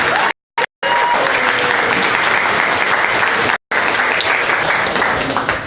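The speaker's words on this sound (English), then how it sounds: "big round of applause" Loud, dense applause from an audience at a Long Island activists' meeting, steady sustained clapping that cuts out briefly a few times before resuming.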